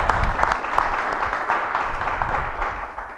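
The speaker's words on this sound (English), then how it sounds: "Round of applause for Spencer, everybody." An audience claps steadily and close for about three seconds, a dense, even patter that eases off slightly at the end.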